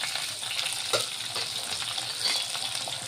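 Garlic and long-sliced green chillies fry in a pan, giving a steady, close, continuous sizzle with small crackles throughout and no talking.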